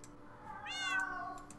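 A house cat that has just eaten lets out a single clear, rising-and-falling meow near the microphone, lasting under a second against a quiet room.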